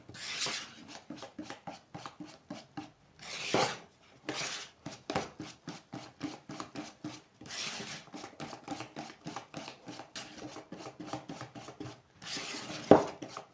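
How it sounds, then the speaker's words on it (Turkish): Batter for gülüt is whisked by hand in a bowl, giving quick rhythmic scraping and tapping strokes in bursts with short pauses, close and clear. "şimdi tekrardan alttan üste doğru pürüzsüz hale gelinceye kadar çırpacağım"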